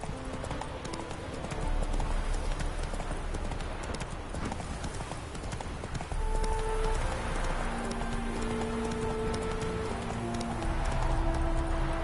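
Roach, a horse in the video game The Witcher 3, galloping with rapid rhythmic hoofbeats that stay close and loud, joined partway through by soft sustained musical tones beneath the clatter.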